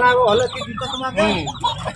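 A chicken for sale at a village haat market in Ghatal clucks loudly and close by in a quick run of squawking calls.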